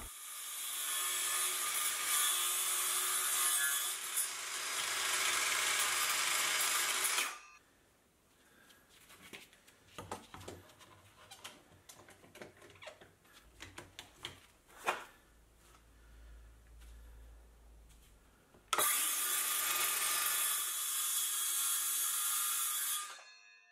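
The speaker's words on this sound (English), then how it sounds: "when I start the cut is the motor of the circular saw is getting" A circular saw cuts through oak for a garden bench, two loud sustained whining bursts at the start and end, with quieter knocks and clatter of handling the workpiece in between.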